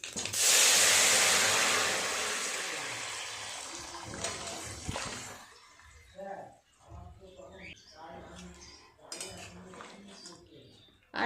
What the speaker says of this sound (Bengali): ঝোলটা এবার ঢেলে দেবো